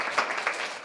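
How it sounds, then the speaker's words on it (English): A brief burst of audience applause at a board of education work session, a soft wash of clapping with a couple of louder claps standing out. "So one last round of applause"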